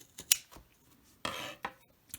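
Scissors snip paper for a junk journal in a handful of short, crisp cuts, close and quiet, with brief pauses between snips and no talk.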